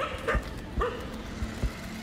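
Stray dog barking in an urban setting, three or four short barks spaced about half a second apart, moderately near, over a steady hum of city background noise.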